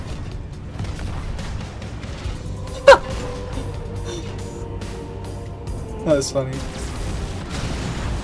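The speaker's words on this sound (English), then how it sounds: "Explosion." Explosions in Halo 2 gameplay come through as a few short, muffled booms, one early and a pair later, under a player talking throughout.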